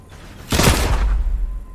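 A loud pistol shot from Hop Rock Dualies dual pistols in Fortnite strikes a player build, a sharp burst followed by a rumbling impact that fades out.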